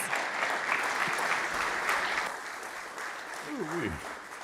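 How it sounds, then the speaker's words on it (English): Steady audience applause at a climate-action talk, a broad even wash of clapping that softens slightly midway, with a brief voice rising above it near the end. "Let's give him a round of applause"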